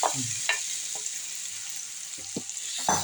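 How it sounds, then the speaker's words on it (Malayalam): Chopped banana sizzles and fries in hot ghee with a steady crackling hiss, broken by a few soft clunks of stirring in the pan; no one speaks. "ഇനി അതിലേക്ക് നമുക്ക് ഞൊറുക്കി വെച്ചിരിക്കുന്ന ഏത്തപ്പഴം ഇടാം ആ നെയ്യിലേക്ക്"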